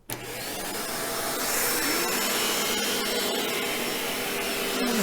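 A Shark Pet Pro vacuum cleaner runs steadily and loudly from start to finish, a sustained motor whine with a broad airy rush that holds level throughout.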